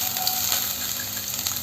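Cinnamon and star anise sizzle in hot vegetable oil in a pan, a steady close crackle and hiss with small pops throughout and no talking.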